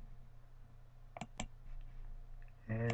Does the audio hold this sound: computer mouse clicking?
yes